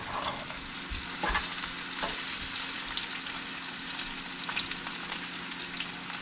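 Potatoes sizzling in a pan for a country breakfast of smothered potatoes, with a steady frying hiss and scattered scrapes and clacks of stirring throughout.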